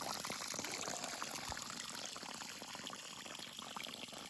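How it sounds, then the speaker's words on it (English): Water runs continuously through flood irrigation channels in a backyard garden, a steady close trickling and gurgling flow with no voices. "The sound of running water through the channels is music to my ears"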